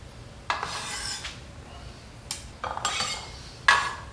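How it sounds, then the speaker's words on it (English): A bench scraper sweeping chopped vegetables for black bean corn salsa off a board into a bowl, a few short close rasping scrapes with small clacks between brief quiet gaps. "Bench scraper here, which will help us to get this into our bowl."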